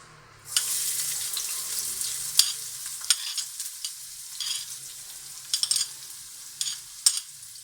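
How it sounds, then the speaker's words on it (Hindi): Two medium-sized chopped onions hit hot oil in a pan, setting off a loud, steady sizzle that continues with scattered crackles and stirring clatters, with no talking. "इसमें मैं अब चॉप किए हुए 2 मीडियम साइज के प्याज डालने लगी हूँ।"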